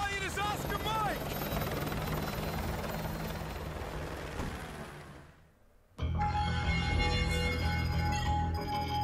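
Helicopter in Call of Duty: Modern Warfare 2, a loud rotor thrum with game music and effects that fades out, then returns in a new scene with a steady rotor drone.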